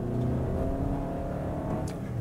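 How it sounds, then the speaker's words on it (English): A 2021 Toyota Sienna hybrid minivan's engine under hard throttle gives a steady, close droning whine with the sustained CVT-style pitch of continuous acceleration, with no voices over it. "when you put your foot hard into the throttle,"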